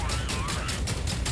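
Deployed turrets in the mech shooter Hawken Reborn fire in rapid repeated bursts, a dense rattling barrage of gunfire lasting throughout.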